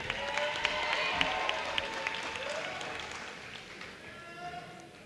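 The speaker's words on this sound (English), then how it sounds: "Please give the graduating class of 2021 another round of applause." Applause from a graduation ceremony crowd honoring the class of 2021, a steady wash of clapping and cheering with scattered sharper claps, filling the whole stretch at moderate loudness.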